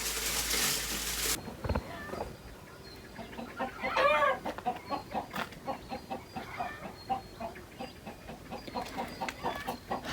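Chickens being let out and fed grain on a cold early morning, a flock clucking in quick, steady repeated calls nearby after a brief burst of noise at the start.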